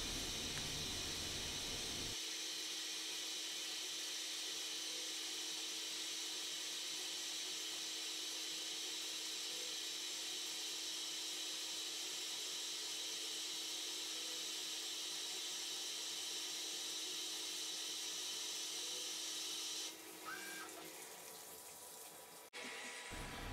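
A metal lathe takes a finishing cut while repairing a square shaft, a steady even whir and hiss that holds for most of the clip before easing and shifting near the end.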